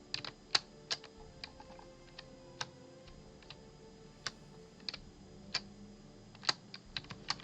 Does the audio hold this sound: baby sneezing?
no